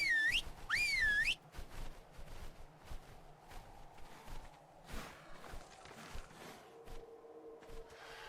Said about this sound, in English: I guess the whistle is just a little bit delayed